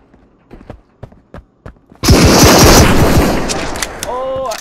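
Gunfire in the video game Marauders: several sharp isolated shots ring out, followed by a loud, sustained burst of rapid automatic fire and ringing tones near the end.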